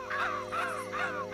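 Three harsh caws from a crow in quick succession, evenly spaced and fairly close.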